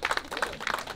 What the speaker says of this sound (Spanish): Fuerte los aplausos en esta inauguración de la calle número 1